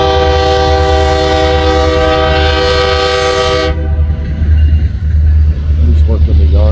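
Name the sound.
BNSF locomotive 124 Wildcat working the yard, horn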